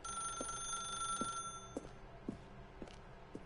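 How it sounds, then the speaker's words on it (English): Telephones ring in the video game The Stanley Parable, with a rapid electronic trill over repeated softer bell-like rings at a steady, regular rhythm, all fairly faint. "I'm gonna get crazy just listening to the ringing of the phones every day."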